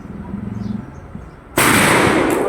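A single loud, sharp gunshot at an outdoor firing range rings out abruptly after a low murmur and distant voices, followed by a sustained noisy decay.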